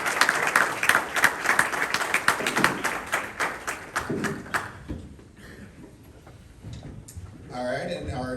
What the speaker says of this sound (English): Round of applause for Nick.